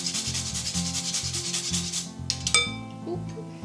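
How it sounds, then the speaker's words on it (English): Fresh nutmeg scraped against a grater in quick, even rhythmic rubbing strokes, close and clear, ending with a couple of light clinks. "grate in about 1/8 teaspoon of fresh nutmeg"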